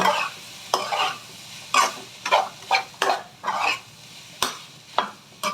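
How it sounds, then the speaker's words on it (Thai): Nam fried rice is stir-fried in a pan with green-cap sauce and fish sauce. Vigorous spatula scrapes come in a steady rhythm, roughly every half second, each stroke bringing a bright burst of sizzle. "ใส่น้ำปลาดีนะคะแล้วก็ผัดให้ทุกอย่างเข้ากันนะคะ"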